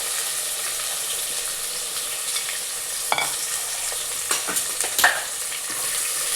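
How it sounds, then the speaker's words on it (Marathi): Onion, carrot and tomato sautéing in a pan for palak pulao: a constant hiss of frying with a few sharp spoon scrapes and stirring knocks near the middle, no voices. "त्याला छान परतून घ्यायचं."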